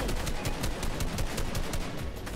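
Automatic weapon sprayed continuously during a Fortnite match, a rapid unbroken stream of evenly spaced shots, loud and close, with no talk over it.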